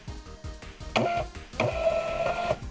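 A 402B thermal label printer runs off a label with a short series of ticks, then two bursts of whirring, buzzing feed, loud and close with no voices.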